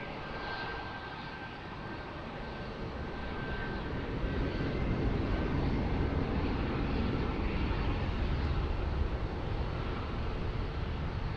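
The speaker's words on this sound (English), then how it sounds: "Embraer 195 now rolling" An Embraer 195 jet airliner on its takeoff roll at Lisbon Airport, heard as a broad engine roar that swells after a few seconds and holds steady at a distance, with no voices over it.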